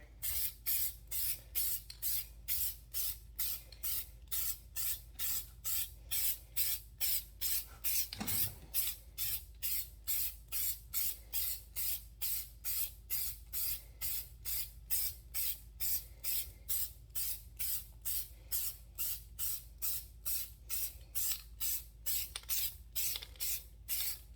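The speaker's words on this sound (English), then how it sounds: "Do a little test spray on the ground. Sure it comes out evenly." An aerosol can sprays a coating onto the ground as a test in rapid, evenly spaced short hissing bursts, dozens in a steady rhythm, close and continuous with no talking.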